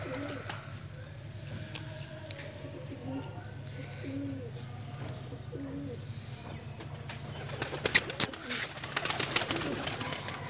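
Soft, repeated coos from a breeding pair of black pigeons in low murmuring phrases over a steady hum, with a brief flurry of sharper bird sounds and flapping near the end.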